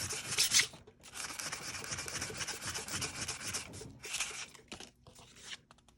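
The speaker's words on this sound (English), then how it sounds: "I'm just going to sand away the top of the tape" Sandpaper rubbing over the top of a strip of tape on a tabletop, a steady close-up rasping scrape that runs almost continuously, with short pauses between strokes and a slightly louder burst near the start.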